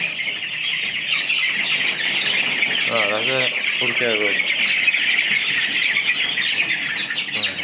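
A crowd of 22-day-old Andijan black chicks in a chick house keeps up a dense, continuous high peeping close by, while someone speaks briefly over the chorus.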